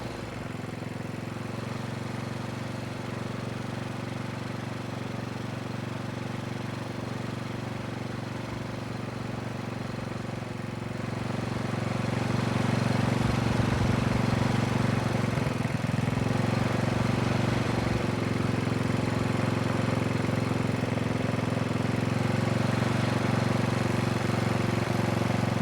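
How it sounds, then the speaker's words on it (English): A Tecumseh small engine runs with a steady mechanical drone at moderate level, growing somewhat louder and rougher partway through as it is brought back to idle during carburetor adjustment. "Return the engine to idle and reset the idle."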